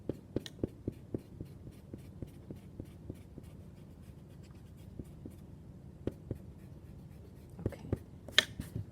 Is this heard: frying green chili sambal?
no